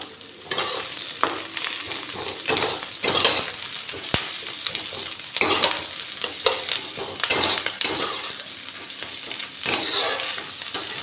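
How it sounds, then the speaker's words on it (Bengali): Onions fry in a pan with a loud, continuous sizzle while a spoon stirs them, giving repeated scraping sweeps and one sharp metallic knock, with no speech. "পেঁয়াজটা ভাজতে বেশ কিছুটা সময় লাগবে"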